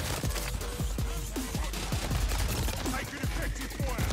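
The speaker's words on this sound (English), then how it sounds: "I shot 4 shots and every single one of them missed" Rapid pistol gunshots from the TYR handgun in Call of Duty MW3, a dense series of sharp cracks packed closely together over continuous game noise, with no speech.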